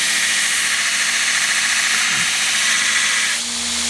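Belt grinder with a Blaze belt grinding a knife blade under heavy pressure, a loud continuous abrasive whine and motor drone up close that drops slightly near the end.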